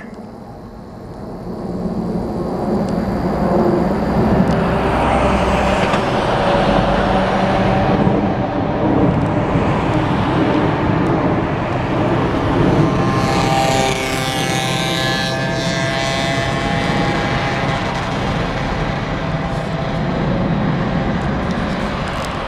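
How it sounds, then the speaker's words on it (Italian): A four-engine propeller airplane passes overhead above an urban area, a steady broad engine drone that holds loud throughout with a faint rising whine near the middle, no talk over it. "Arriva qualcosa? Ah, un aereo!"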